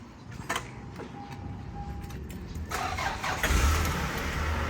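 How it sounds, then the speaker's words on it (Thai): A Toyota Corona car engine cranks briefly and catches on the first try, then settles into a steady idle, heard close by with faint background noise. "รถสตาร์ทที่เดียวติดนะครับ"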